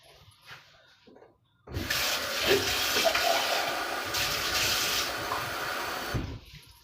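Water runs from a tap in a home kitchen, starting abruptly after a quiet moment and gushing in a steady, close hiss for several seconds before cutting off.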